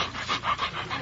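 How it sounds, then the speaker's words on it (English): A dog pants rapidly right up close, quick rhythmic breathy huffs repeating about four times in a second, with no talking over it. "Stop licking my face."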